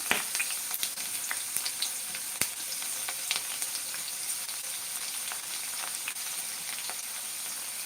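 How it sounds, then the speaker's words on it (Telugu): Bitter gourd slices crisping in hot oil on a low flame, a continuous close sizzle with frequent small pops and crackles, no voices. "ఈ కాకరకాయలు ఉన్నాయి కదా ఈ ఆయిల్లో వేయించుకుందామండి సిమ్లో పెట్టుకుని బాగా క్రిస్పీగా వేయించుకోవాలి"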